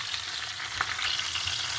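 Fish laid in a hot pan fry with a steady, dense sizzle and crackle that holds evenly throughout, close and alone without voices.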